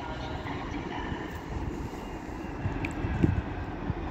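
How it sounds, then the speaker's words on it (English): A Manchester Metrolink tram arriving from Manchester Victoria at Manchester Airport gives a low, steady rumble that builds slightly toward the end, with a faint squeal near the close. "coming in is another Metrolink tram from Manchester Victoria"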